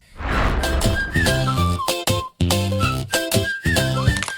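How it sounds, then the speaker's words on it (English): A bright whistled melody of sliding and stepped notes over a steady backing track with a thumping beat, loud and continuous with brief gaps. "turn a hook into pure whistles and sounds"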